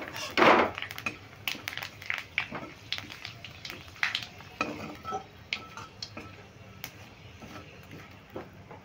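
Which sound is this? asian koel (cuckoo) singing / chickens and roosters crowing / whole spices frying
whole spices frying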